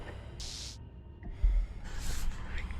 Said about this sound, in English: Again, your eyes shoot open as you gasp for breath.